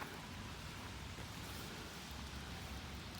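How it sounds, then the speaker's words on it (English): Heavy rain pours steadily outdoors at a railroad museum in Elkhart, Indiana, a constant soft hiss of water with no gaps, faint and fairly distant. "today it's pouring rain"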